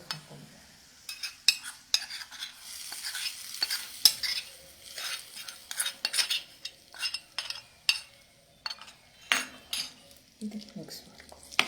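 Spoon stirring ground spices, cumin, pepper and dried chilli powder, in a frying pan, with clinking scrapes against the pan repeating in an irregular rhythm, close and moderately loud, over a faint sizzle.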